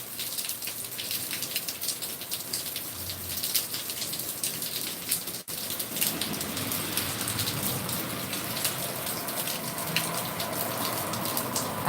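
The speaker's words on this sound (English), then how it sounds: "It's raining." Steady rain falls on surfaces, a dense even patter of drops that carries on through without a break, with no voices.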